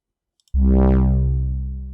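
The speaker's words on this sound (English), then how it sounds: "Let's hear this bass without effects first." Synth bass note played dry with no effects, a single deep sustained tone that enters abruptly after a short silence and rings on with a slow fade, loud and close.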